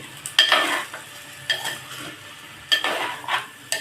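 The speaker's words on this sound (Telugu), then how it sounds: "ఇప్పుడు ఉప్పు, ఈ పసుపు వేసి ఇదిగో నీట్గా ఇదంతా కలిసిపోయేటట్టు ఇలా కలుపుకోండి" Salt and turmeric stirred into a drumstick curry in a pan, heard as three or four distinct bursts of a spoon scraping and clattering against the pan over a faint background sizzle, close and fairly loud.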